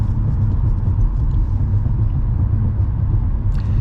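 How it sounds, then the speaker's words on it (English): Steady low rumble of a car cruising smoothly at moderate speed, heard from inside the cabin, an even engine and road drone with no revving and no voices. "You can tell by the sound of the car, it's a really nice, smooth drive."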